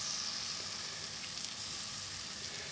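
Onions frying in a pan with a heaped spoon of tomato puree being stirred in for a home-style chickpea and spinach curry, giving a steady, close sizzle that stays even throughout with no voices.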